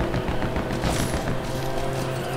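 Dense, continuous rapid gunfire in Lego Batman 2, a loud, unbroken rattling fusillade throughout.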